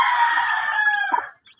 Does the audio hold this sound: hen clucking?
yes